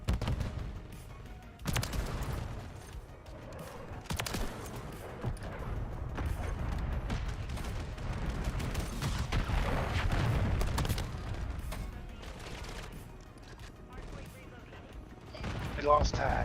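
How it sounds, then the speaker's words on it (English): Shotgun blasts and other gunfire in a Call of Duty match, with sharp shots scattered over a dense, continuous bed of game noise and a voice talking at times. "I got a shotgun out now, don't you worry."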